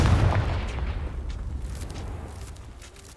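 Hogwarts Legacy's Confringo fire spell goes off as a heavy booming blast right at the start, then its rumbling tail gradually fades away over a few seconds.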